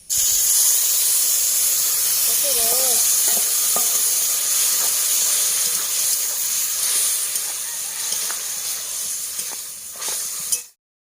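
Pineapple chutney sizzles loudly in leftover oil from frying potatoes, a steady close hiss of steam and spatter that runs throughout and cuts off at the end, with a brief voice heard in the middle.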